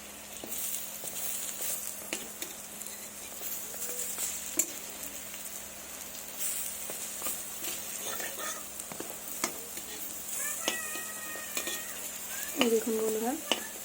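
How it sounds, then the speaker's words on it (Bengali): Raw banana and lentil kopta frying in mustard oil in a wok, giving a steady soft sizzle with scattered light clinks and scraping of a spatula as the pieces are turned, fairly close but low in level. "তো এই পিঠটাও আমি ভেজে নেব।"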